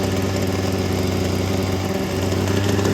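A freshly started two-stroke engine settles into a steady, even idle. The buzzing drone is loud and close and carries on without a break.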